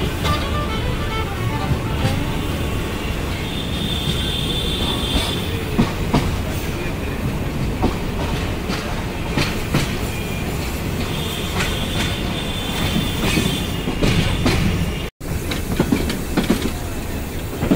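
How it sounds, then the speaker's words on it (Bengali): Tista Express intercity train rolling into Kamalapur railway station in Dhaka at night, a continuous loud rumble with clickety-clack of wheels over rail joints and occasional squeals, close by throughout. "আন্তনগর তিস্তা এক্সপ্রেস ঢাকার কমলাপুর রেলওয়ে স্টেশনে প্রবেশ করছে রাত 9টা 38 মিনিটে।"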